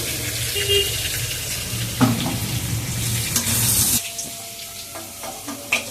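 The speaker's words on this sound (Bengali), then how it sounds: "রান্নার সঙ্গে আলুগুলোকে একটু ভেজে নিই।" Potato pieces fry in a pan with a steady, close sizzle, broken by spatula stirs and clinks, with a short burst of running water and quieter hissing toward the end.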